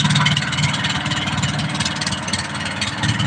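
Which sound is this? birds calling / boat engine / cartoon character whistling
boat engine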